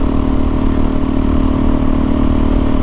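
A Suzuki DRZ400 dual sport motorcycle cruises at steady highway speed on a long moto-camping trip, its engine droning continuously under a loud, constant rush of wind and road noise with no pauses.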